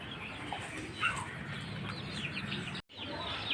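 Faint clucks and soft chirps from a group of chickens and chicks, quiet and continuous, with a momentary dropout near the end.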